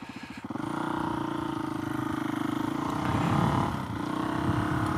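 A Suzuki DRZ470S motorcycle engine idles close by, with a steady low, even thump and a brief rise in the middle.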